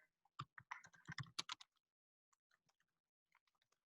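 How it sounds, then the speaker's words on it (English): Fingers type quickly on a computer keyboard in a brisk burst, then tap a few scattered, quieter keys afterward, close up and without talk. "I'm typing up something real quick so you guys can share it."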